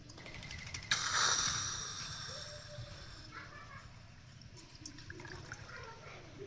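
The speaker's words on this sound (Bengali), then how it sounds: "এখন আমি পানিটা পাতিলে ঢেলে দিব" Water is poured into a small toy cooking pot from a miniature kitchen set, a quick splashing gush near the start that trails off into a soft trickle, close and fairly quiet.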